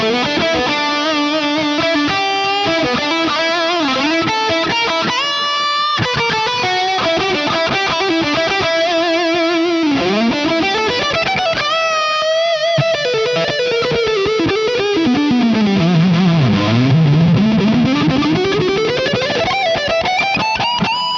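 Metal electric guitar played through a cabinet with Vintage 30 speakers, with Strymon Timeline delay and Strymon Flint reverb: loud, sustained distorted riffs and melodic lead lines with sweeping bends, a trailing echo and a wide reverb tail, continuous throughout.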